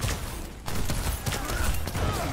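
Gunfire in the Overwatch 2 video game, a dense burst of rapid shots and impacts that is loud and continuous throughout, mixed with game effects.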